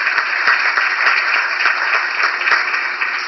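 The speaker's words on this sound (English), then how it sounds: "please stand up and give him a round of applause" An audience applauds steadily at a diplomatic briefing, the dense clapping close and loud and continuing without a break, with no talking over it.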